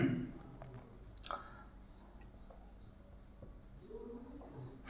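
Pen or marker writing on a board during a commerce class on financial statements, giving soft scratchy strokes and small taps, faint, with a brief voice at the start.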